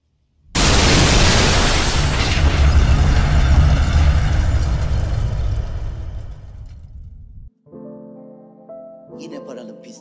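A time bomb detonates in a Turkish comedy film scene, a sudden loud roaring blast that rumbles and slowly fades over several seconds before music and other sounds follow.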